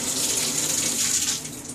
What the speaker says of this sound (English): Now, I'm gonna rinse my lemon off.